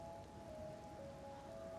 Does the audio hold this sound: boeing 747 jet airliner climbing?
no